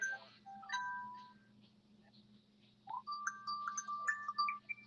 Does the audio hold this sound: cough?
no